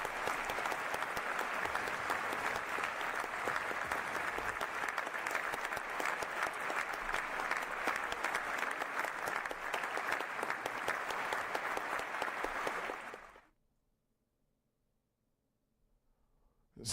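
Sustained, dense applause from a crowd, steady and loud for about thirteen seconds before cutting abruptly to silence, following a Rocket League match among six players in a lobby.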